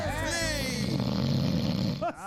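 A person snoring loudly and steadily at close range, with a noisy, busy background layered underneath the snores.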